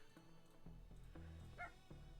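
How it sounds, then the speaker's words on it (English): Sniffer dog in The Darkside Detective video game giving a few yelping barks and whimpers over steady game music, close and moderately loud. "It's meant to be a sniffer dog."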